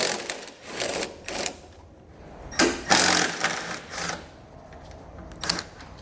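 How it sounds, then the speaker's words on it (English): Ratchet and socket loosening and pulling out 15mm bolts on a 2018 Ram ProMaster C trailer hitch install, several bursts of rapid mechanical clicking separated by pauses, close and fairly loud. "So I'll grab my socket and pull those out."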